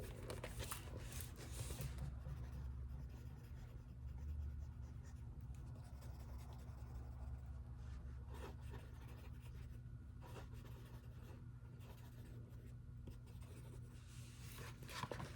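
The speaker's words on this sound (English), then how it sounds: "Let me write this down." Pen scratching across paper in a quiet ASMR therapist roleplay, a faint, steady close-up writing sound of short strokes over a low background hum, with no talking.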